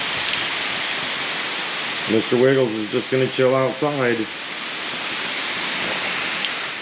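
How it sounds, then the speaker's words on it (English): Steady rain patters down outside a house in Islote, Puerto Rico, forming a constant hiss that runs through the whole stretch while a voice speaks briefly in the middle. "We're starting to get some really good rain now."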